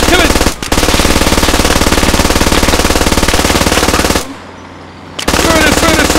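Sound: gunfire from a video game (Squad)

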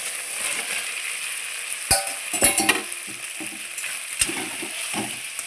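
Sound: frying potatoes and raw banana in spice paste

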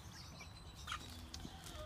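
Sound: chickens clucking

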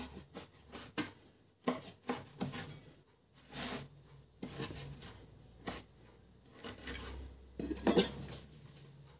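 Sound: knife cutting food

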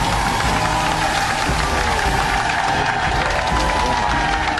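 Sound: studio audience applause welcoming a guest

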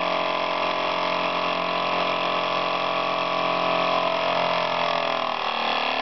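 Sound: steam engine running and revving

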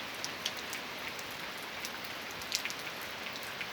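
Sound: rain falling

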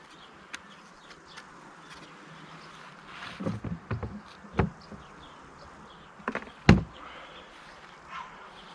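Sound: Carniolan honeybees buzzing

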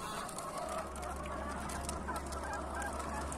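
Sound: chickens clucking

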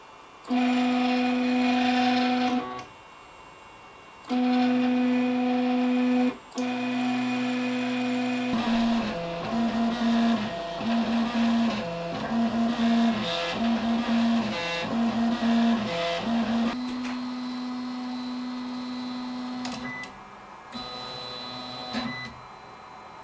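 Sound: HyperCube 3D printer running with new stepper drivers

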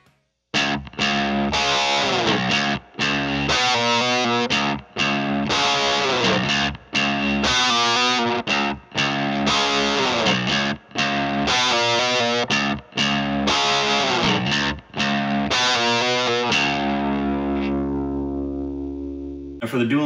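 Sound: electric guitar power chord, Les Paul Studio through JCM 800 amp

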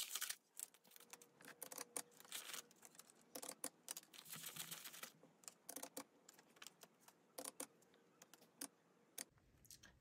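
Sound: counting paper cash money

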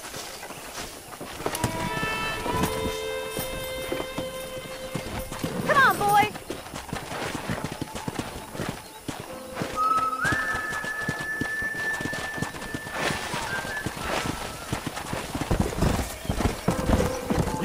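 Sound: wild horses galloping and neighing in Red Dead Redemption video game

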